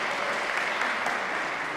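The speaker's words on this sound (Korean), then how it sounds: "박수 부탁드립니다" Congregation applause during a Sunday church service, a steady dense wash of hand clapping from a crowd, filling the room without pause.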